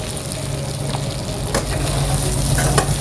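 Turmeric, chili, cumin and garam masala being stirred into fish heads and mung dal in a frying pan, with a close, steady sizzle and soft scraping strokes that build slightly louder toward the end.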